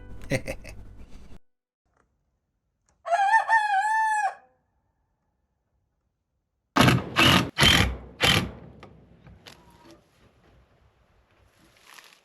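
A rooster crows near a backyard chicken run, first one drawn-out crow and then a second burst of loud, close crowing, with quiet gaps and faint background sounds trailing off afterward.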